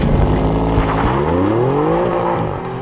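A 2016 Alfa Romeo Giulia Quadrifoglio with a twin-turbo V6 accelerates hard on a wet track at Balocco, its engine note rising loud and close through the gears before tapering off.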